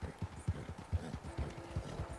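Hooves clip-clop at a steady trot in a video game, a horse being ridden over a long distance, the rhythmic footfalls fairly close and moderately loud with no talk over them.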